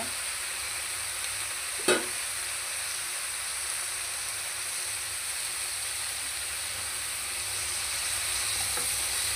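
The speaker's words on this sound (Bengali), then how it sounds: "ভালো করে মিশিয়ে নিতে হবে লবণ আর হলুদ দিয়ে সবজিগুলো" Vegetables tossed with salt and turmeric in a frying pan sizzle and hiss steadily throughout, with one sharp stir or scrape near the start; no voices.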